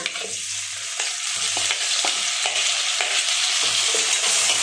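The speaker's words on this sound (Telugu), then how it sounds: "టమాటోస్ కూడా ఒక పది నిమిషాలు స్లో ఫ్లేమ్లో వేయించుకోవాలండి చూడండి టమాటోస్ ఏగుతున్నాయి" Tomatoes and onions fry slowly in a pan over a low flame, giving a steady close sizzle with repeated scraping strokes as the mixture is stirred.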